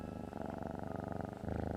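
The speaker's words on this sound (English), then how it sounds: "There was a little purr, and Sebastian dropped out of a tree" A cat purrs in a close, soft, rhythmic rumble with steady pulsing breaths, alone without other sounds.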